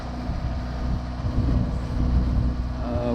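Low steady engine drone of a sailboat motoring into a west wind on Lake Michigan, with wind rumble and water wash around it, continuous and fairly loud, no voices.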